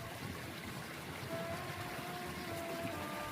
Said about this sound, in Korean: 오를 때 많은 땀을 흘려 갈증에 몸이 말라 있어 시원한 물소리가 마음을 적셔줍니다